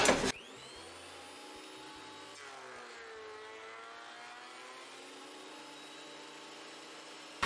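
A Metabo DH330 thickness planer feeds hardwood through, a loud sustained whining roar with a sharp burst at the start and again at the end, steady throughout.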